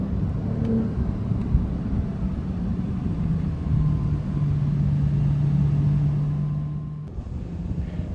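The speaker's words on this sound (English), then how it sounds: "it's fun to downshift needlessly just to listen to that" Engine of a 2024 Porsche 911 Turbo S with an 8-speed PDK transmission, downshifting; a sustained humming cabin drone holds steady, then drops away abruptly near the end as the gear changes.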